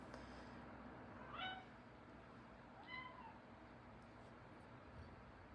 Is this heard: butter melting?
no